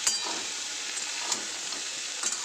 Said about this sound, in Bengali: দিয়ে এবার এটাকে নাড়ব